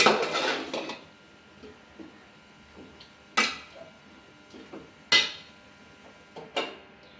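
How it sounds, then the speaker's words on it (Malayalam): A utensil clatters and scrapes against a cooking pot as curd is stirred for Kerala avial curry, with several sharp, close metallic knocks spaced apart over a quiet background. "ഇപ്പം തൈര് വെച്ച് ഇനിയിപ്പോൾ ഇതൊന്ന് ഇളക്കട്ടെ"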